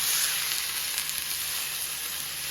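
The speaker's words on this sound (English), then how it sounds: "As you can see, it's really hot, so we're just going to drop our meat" Roast meat searing in hot oil in a cast iron skillet for an English pot roast: a loud, steady, close sizzle with crackling spits and a hissing steam edge, no talking.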